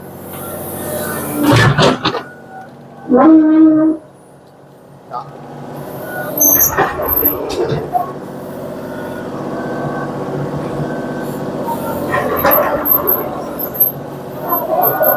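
Kubota U30 three-ton mini excavator on a farm, driving with a rumbling engine and rhythmic squeaks from the undercarriage. A few short bursts of louder noise stand out, and someone speaks briefly early on.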